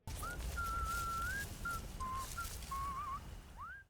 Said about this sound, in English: one sound effect I could have done without was the incessant whistling of enemies